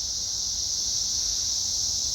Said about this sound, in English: So those of you who don't know, those are called cicadas.